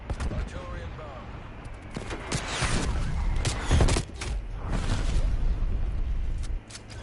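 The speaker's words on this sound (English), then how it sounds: "Artillery inbound." Artillery shells land during a Call of Duty round, a rumbling barrage of booms and gunfire cracks that keeps going for several seconds, the heaviest blast landing midway, with a voice talking faintly underneath.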